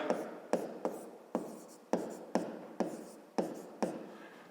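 Pen or marker strokes writing a perimeter formula by hand for a fifth-grade maths exercise, heard as about nine sharp, evenly spaced scratchy strokes that fade between them, close and quiet with no talking.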